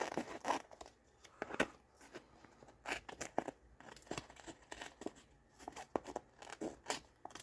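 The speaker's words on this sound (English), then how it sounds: "I'm going to go ahead and clip off this excess here so it doesn't stick to the paper" Scissors snip away excess masking tape at a craft table, a series of sharp cuts and crisp tearing crunches arriving in irregular bursts, close and fairly loud, with no talking.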